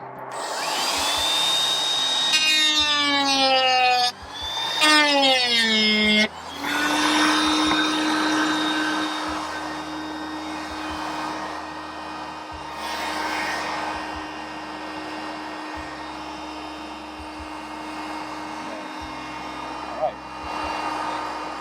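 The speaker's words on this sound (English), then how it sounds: "I still see a few remaining cracks here that go into the fiberglass, so I'm going to continue to grind here." An angle grinder cuts into cracked fiberglass gelcoat on a boat hull, revving up and down in whining bursts before settling into a steady loud high-pitched drone, close to the microphone.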